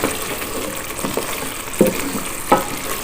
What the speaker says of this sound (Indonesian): Kita aduk lagi ya guys.